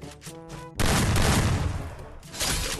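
Gunfire in the Free Fire battle game: a few sharp shots, then a loud, dense burst of rapid fire that rolls on for about two seconds and surges again at the end.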